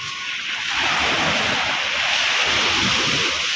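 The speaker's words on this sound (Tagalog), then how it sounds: "Malakas na yung alon ng dagat" Strong sea waves roll in at Dinadiawan beach, a loud, steady, close roar of surf with wind mixed in, continuous and unbroken.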